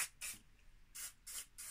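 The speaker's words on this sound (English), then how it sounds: "I'm going to use some WD-40 and just spray that into the" WD-40 spray can sprayed into the carriage of a Knitmaster 700 knitting machine: five short, quiet hissing bursts in an uneven rhythm, separated by brief gaps.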